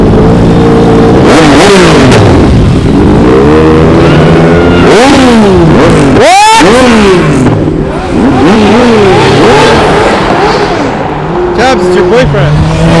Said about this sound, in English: Oh, see these bikes take off.